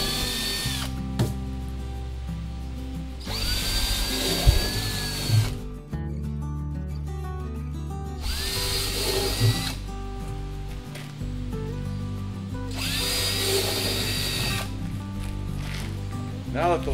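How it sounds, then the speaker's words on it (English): A power drill with a 1/4-inch bit whirs in several bursts, its pitch dropping as the bit bites through a plastic poly inductor tank, with quiet handling noise between runs. "Using a 1/4-inch bit, drill the holes."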